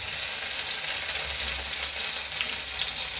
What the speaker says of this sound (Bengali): আমি এখন এই সরিষার তেলের ভিতরে টমেটোটা ভেজে নিব